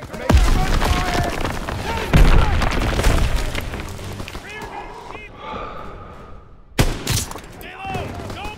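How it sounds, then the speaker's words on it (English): Gunfire and explosions from a Call of Duty WW2 forest battle: heavy booms and rapid volleys of shots, some near and loud, others distant, with a sharp blast late on and voices shouting amid the fighting. "Gunfire! We must be near our guys."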